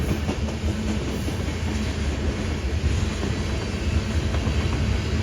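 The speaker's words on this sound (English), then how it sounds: "I knew a train was going to come." A BNSF ES44DC diesel locomotive leads a coal train past, giving a loud, continuous rumble with steady wheel clatter from the passing cars, heard nearby without talk.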